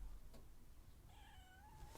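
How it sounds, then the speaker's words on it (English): A single drawn-out cat meow rises and falls near the middle, fairly close, over soft background noise. "I just heard my cat meow."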